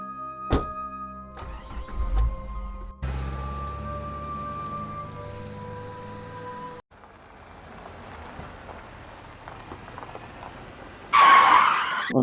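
A cartoon car's brakes engage on their own and the engine stalls. Mechanical thunks and a screeching, tonal skid are followed by a lower rumbling stretch, and a sudden loud hiss ends the sequence.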